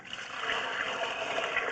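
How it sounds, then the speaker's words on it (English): Water rushes steadily down an ABS sewer line from a property toward the city main, a continuous broadband hiss and trickle holding at a constant level throughout. "I'm going to go ahead and get some water down the line"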